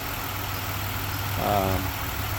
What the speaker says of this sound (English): Car runs nice and smooth, no rough idle.